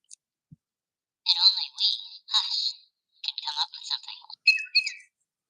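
A small pink pet bird gives a series of bright, high chirps in short bursts, up close against near silence.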